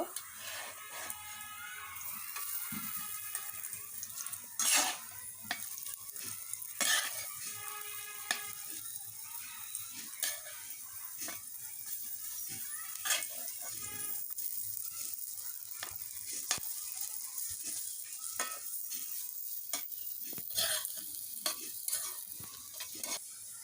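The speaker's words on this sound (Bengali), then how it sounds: "বেশি কড়া করে ভাজবো না ভাজা হয়ে আসছে নামিয়ে নেব" Fritters for mustard paturi fry in a pan of hot oil, giving a steady close sizzle with frequent sharp crackles and pops throughout.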